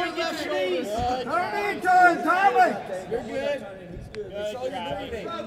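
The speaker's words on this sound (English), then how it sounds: "The crowd comes alive for Travis Thomas." A live crowd at an MMA fight swells with cheers and shouts, a thick wash of many voices rising and falling close by without a break.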